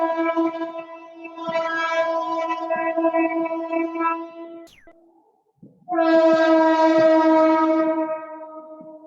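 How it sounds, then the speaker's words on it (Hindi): A passing train sounds its horn in two long, loud, sustained blasts separated by a brief gap, with rumbling rail noise underneath. "थोड़ी ट्रेन निकल जाए फिर आगे बढ़ते"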